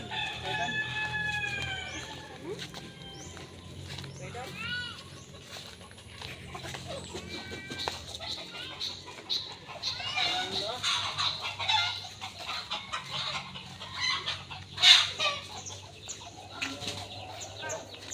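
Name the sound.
chicken clucking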